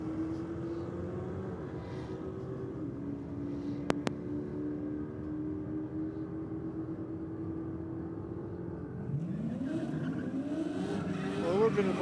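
A drag race car at Sydney Dragway drones steadily and builds to a louder, rising roar near the end as it accelerates down the strip, heard from a distance amid background noise.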